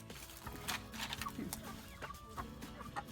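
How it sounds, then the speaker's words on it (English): Chickens and turkeys cluck and chatter in short bursts nearby, with scattered soft calls and rustling throughout. "Look at all of these chickens and turkeys,"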